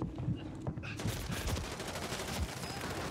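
Rapid gunfire rattles throughout a Fortnite match, a dense run of bursts and shots with a few quieter gaps, close and loud over a busy background.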